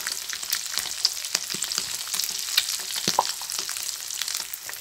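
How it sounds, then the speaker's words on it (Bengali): Halved eggs sizzle steadily in hot oil with a pinch of turmeric while an egg-and-potato curry is made, a dense, close crackle with scattered louder pops and no talking. "এখন আমার তেলটা গরম হয়ে গেছে, ডিমগুলো সব দিয়ে দিচ্ছি।"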